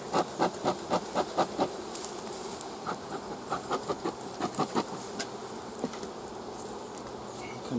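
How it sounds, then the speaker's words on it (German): Honey bees swarm around an opened beehive, a steady buzzing hum broken by a quick series of sharp, rhythmic taps, heard up close with no talking. "Dazu die Bienen wieder ein bisschen zurückdrängen."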